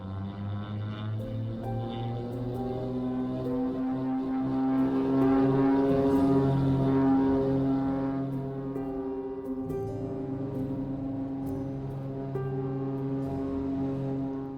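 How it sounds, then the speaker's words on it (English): Small airplane taking off from a runway in Ashland, Oregon: a steady droning propeller engine that swells louder in the middle and then holds, continuous and fairly close, with no talk. "And it's takeoff."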